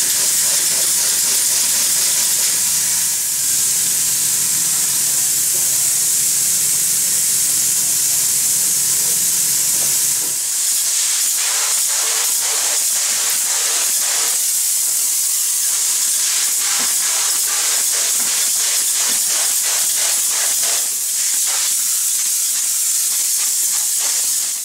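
A steady, loud hiss of spray foam being applied. It keeps going throughout, with rapid pulsing sputters in the second half.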